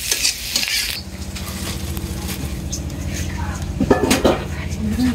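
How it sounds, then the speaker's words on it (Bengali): Vegetables stirred and fried in a pan after chopped onion, giving a steady close sizzle with scraping and clinking of a utensil against the pan, while someone talks. "তারপরে এই সবজি দিয়ে দিলাম"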